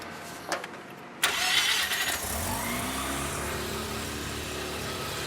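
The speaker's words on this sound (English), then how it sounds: "now I can slowly bring the idle up while looking at the butterflies to see where it wants to sit" A Mazda RX-7 rotary engine on a dyno cranks and starts after a couple of short clicks, then settles into a loud, steady idle that holds for several seconds.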